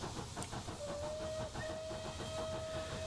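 Steam whistle of an SR/BR Bulleid Light Pacific locomotive in Train Simulator Classic on the Wadebridge route, a sustained tone held for about two seconds over steady hiss and rolling train noise.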